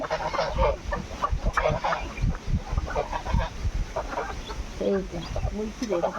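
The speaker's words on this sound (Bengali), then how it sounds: "মা মুরগি চলে আসছে" A mother hen among her chicks clucks in short repeated bursts at close range, and a voice talks over the clucking throughout.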